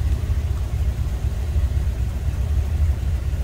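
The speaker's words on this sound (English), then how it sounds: "Listen to that, how smooth that is. You barely hear it running if it wasn't for a little exhaust noise." A 1959 Ford Fairlane 500 engine idles smoothly and evenly, a low steady rumble with a soft exhaust burble, close by and alone.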